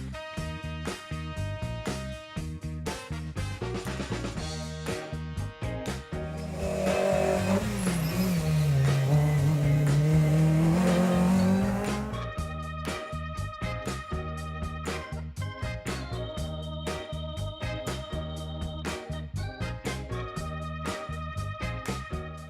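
Vintage rally cars drive the coastal roads of Cap Corse in Corsica. Music plays throughout, and for several seconds an engine rises and falls in pitch as a car passes, heard clearly beneath the music.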